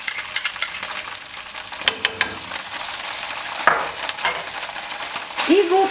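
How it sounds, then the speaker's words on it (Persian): Tomato paste being stirred and fried in a pan for a vegetarian Persian eggplant stew: continuous sizzling with repeated scraping strokes of a utensil and a few clinks against the pan, fairly close. "این رب هم حسابی تفت بدین تا بوی خامیش از بین بره."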